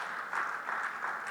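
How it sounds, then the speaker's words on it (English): Audience at the close of a two-day annual business summit in Ghana giving a resounding round of applause, a brief, moderately quiet wash of clapping from a crowd at some distance. "Ladies and gentlemen, give yourselves a resounding round of applause."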